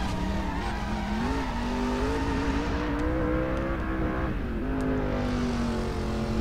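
A car drifting in the video game Driver San Francisco, a loud continuous engine whine and tire squeal rising and falling in pitch as it slides, with no voices over it.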